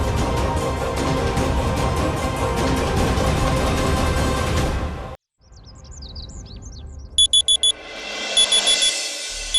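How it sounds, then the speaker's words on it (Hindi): An alarm in a domestic TV drama scene goes off as short, loud, rapid electronic beeping bursts near the end, after loud music cuts out and faint bird chirps take over. "ये अलार्म क्यों बज रहा है?"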